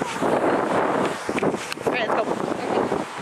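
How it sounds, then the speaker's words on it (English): Gusty, cold wind buffets the microphone with rumbling, fluttering noise while people talk faintly beneath it, outdoors in Daegu. "It's cold and windy."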